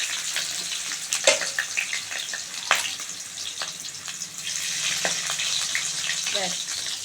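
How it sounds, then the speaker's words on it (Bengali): Potatoes frying in hot oil in a wok, a steady hissing sizzle with occasional sharp crackles and pops, fairly close, with no talking over it. "কড়াইতে তেল গরম হয়ে গেছে, আলুগুলো ভেজে নেবো আগে।"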